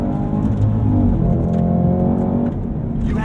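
A Cadillac CT5-V Blackwing, a rear-drive sedan, drives in race mode with its engine revving loudly from inside the cabin. The engine note stays steady and strong, rising and falling slightly, with no talk.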